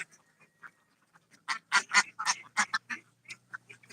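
Ducks at a duck farm quack in a rapid, overlapping cluster of fairly faint calls after a quiet start, with scattered quacks trailing off at the end.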